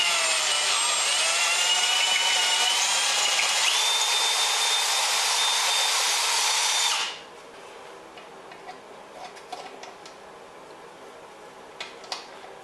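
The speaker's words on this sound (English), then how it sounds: "I don't know if this drill will, oh, it might go through." Power drill boring through holes in a Synergy Kahuna, a steady loud high whine for about seven seconds that stops abruptly, followed by faint clicks and handling noises.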